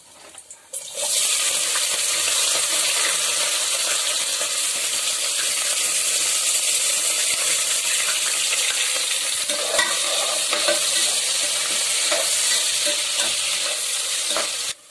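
Onion, curry masala and cinnamon sautéing in hot oil for pulao, a loud steady sizzle and crackle that runs almost without a break, with faint stirring scrapes partway through.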